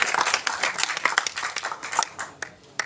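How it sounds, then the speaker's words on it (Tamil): Audience at a Tamil film event applauding a speaker, a dense burst of many hands clapping at close range, steady for a few seconds with sharper individual claps near the end. "அதுக்காக ஒரு தடவை கைதட்டு."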